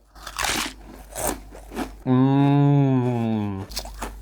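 Crisp, close crunches of someone biting into barbecue-seasoned stacked potato chips, a few loud bites broken by a long drawn-out vocal sound.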